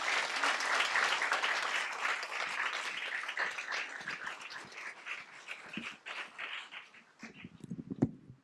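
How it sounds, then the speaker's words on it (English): An audience at a school board meeting applauds award winners. The clapping is full at first, then thins and tapers off, and a dog's whimpers and barks break through near the end. "So please give them another round of applause."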